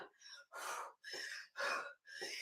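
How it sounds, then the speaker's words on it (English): Heavy, forceful breaths during ab crunches in a steady rhythm, four or five loud exhales and inhales close to the microphone, with no talking. "Now you hear me breathing, right?"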